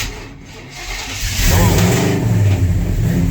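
A hot rod 4x4 with a weak battery and a hanging throttle cranks and catches, its engine rising into a loud, rough revving idle close by.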